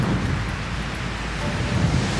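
Strong wind roars over a rough, churning sea at a Polynesian atoll, with a steady dense wash of surf and gusts buffeting the microphone, loud and continuous with no voices.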